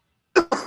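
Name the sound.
coughing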